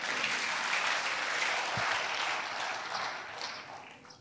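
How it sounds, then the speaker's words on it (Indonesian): A church congregation applauds during a sermon, a dense, steady wash of many hands clapping at once that holds loud throughout and tapers slightly toward the end. "Mau tepuk tangan gak usah takut."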